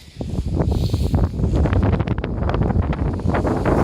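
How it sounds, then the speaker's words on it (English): Strong wind buffets the microphone in loud, continuous gusts with rough low rumbling throughout on a botanical hike near Fortuna, Panama, no voices. "It's extremely windy"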